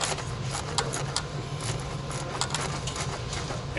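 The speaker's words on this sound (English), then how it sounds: "I'll take it out as far as I can before it stops ratcheting, and then hope the bolt doesn't fall." A ratchet wrench backs out a bolt on an Audi A4, giving a run of quick, sharp clicks in uneven bursts over steady background hum, close-up, with no talking.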